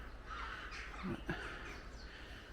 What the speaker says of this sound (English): It's probably crows.